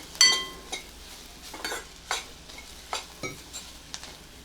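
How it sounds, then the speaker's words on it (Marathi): Food being stirred in a pan with scraping utensil clicks and light sizzling, a steady rhythm of strokes, close by and fairly quiet. "एक दोन मिनटं परतून घेऊया हे"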